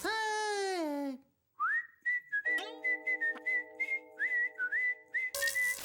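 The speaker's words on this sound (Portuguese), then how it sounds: "Ele começa a assobiar a música." A cartoon character from SpongeBob SquarePants whistles a tune in short, clear, melodic phrases over a quiet background, preceded by a brief sung or bright tonal sweep.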